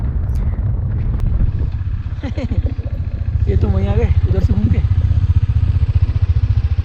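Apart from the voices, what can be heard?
motorcycles riding in the dark near a river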